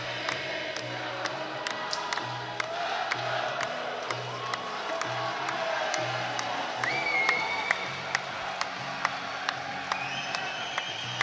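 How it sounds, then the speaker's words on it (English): Crowd in a gymnasium at an inter-services boxing championship clapping in steady rhythm along to music, sharp regular claps over a humming backdrop with scattered whoops. "everyone is clapping along to this song"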